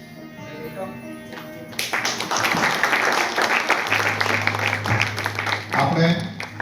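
Audience clapping breaks out after a quieter opening and keeps a dense, steady roar for several seconds at a welcome ceremony for a guest speaker at B. D. Shah College of Education. A low hum runs beneath it.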